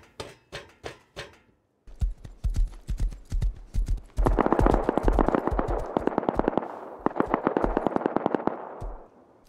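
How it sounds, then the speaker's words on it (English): Gunfire from nearby players in Rust: a short burst of separate single shots, a brief pause, then rapid automatic fire in quick loud rattling volleys, close and punchy, with no talking. "That was what that shooting was."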